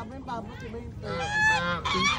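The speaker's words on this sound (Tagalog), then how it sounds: "Takot talaga ako dyan sa gansa" Geese honk loudly and repeatedly, close by, in a harsh nasal series.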